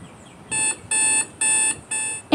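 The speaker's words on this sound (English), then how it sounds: "Just then, the timer went off." A kitchen timer goes off with four short, bright electronic beeps in an even rhythm, loud and close with no talk.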